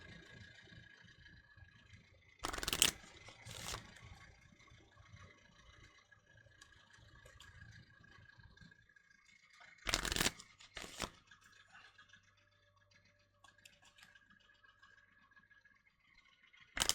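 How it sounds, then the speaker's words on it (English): A deck of tarot cards is shuffled by hand, with two short, loud riffling bursts several seconds apart plus a few softer shuffling sounds close by, over quiet room noise. "Alright, give it another shuffle."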